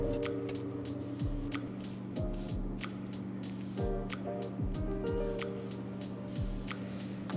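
Spray mist of warm gray paint hissing steadily onto a Batman Begins premium format figure, a continuous close airbrush-like spray with a faint underlying hum and brief pulses.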